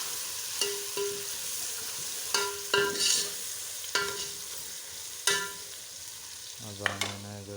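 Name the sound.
stirring onions with ginger garlic paste while frying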